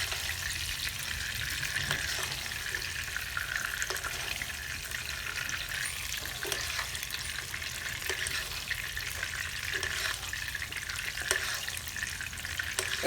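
Steak and garlic frying in hot fat in a pan at medium to medium-low heat while being basted: a constant close crackling sizzle with intermittent spoon scrapes and splashes.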